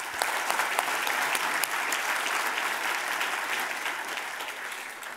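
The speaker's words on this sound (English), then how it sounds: "So another round of applause for what you've done for Indonesia." Sustained applause from the audience at Mochtar Riady's book launch, many hands clapping in a thick, even roar with a few sharper claps standing out, continuing without a break for several seconds.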